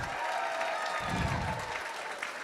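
Brief applause and cheering from guests at a Women's Fund of Hawai‘i Tea & Champagne fundraiser, moderately close, with murmured voices mixed into the clapping.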